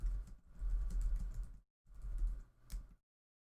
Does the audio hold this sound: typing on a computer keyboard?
yes